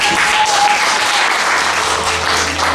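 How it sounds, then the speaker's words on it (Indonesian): A church congregation breaks into dense, steady applause, loud and close, with many hands clapping continuously for the whole stretch and no pause. "Mari sekali lagi berikan tepuk tangan."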